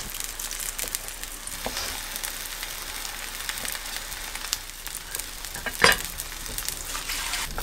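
Tofu pan-frying in a skillet, a continuous close, bright sizzle and crackle holding steady throughout, with one louder clatter near the end, and no one speaking.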